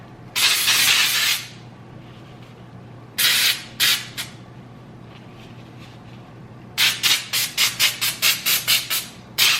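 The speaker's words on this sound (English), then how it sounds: "I need to go buy one more snow spray" Bursts of an aerosol snow spray can hissing close by: a long spray, a few short ones, then a rapid series of quick puffs.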